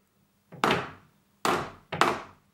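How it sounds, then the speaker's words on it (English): A nail gun fires three sharp, close thuds, driving nails through wood panelling onto a wall, with the last two shots coming in quick succession. "loading up his nail gun"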